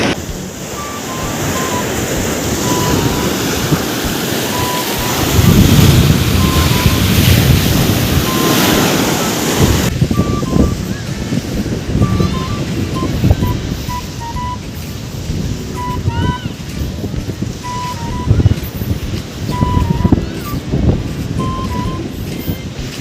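Strong sea waves and a powerful current surge and wash at a beach, a continuous loud roar with rolling swells, broken by gusts of wind buffeting the microphone.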